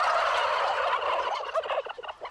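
Turkeys gobble in a farm shed, a dense flock of warbling, rattling calls that overlap continuously and close by, with no talking.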